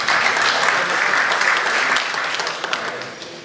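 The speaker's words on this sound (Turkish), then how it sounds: "AFAD Müdürümüz Bayram Şahin Bey'e alkışlarla teşekkür ederim" Audience applause at a Turkish public meeting on earthquake preparedness: dense, steady clapping fills the whole stretch at close range, tapering slightly toward the end.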